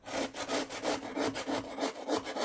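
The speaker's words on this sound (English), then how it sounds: "I'll be using a real box grater instead of my food processor to grate them" Potatoes grated by hand on a box grater, giving steady rhythmic rasping strokes, about a dozen in quick succession, close and fairly loud with no talk.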